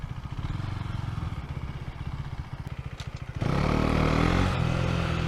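A Husqvarna Svartpilen motorcycle ridden off road through city streets, its single-cylinder engine chugging with a throbbing pulse close to the rider, then jumping abruptly to a louder, higher-revving drone as the throttle opens.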